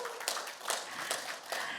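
A small group claps in a faint, sparse rhythm at a Korean school-program event, with a handful of distinct hand claps spaced through the moment and no talk.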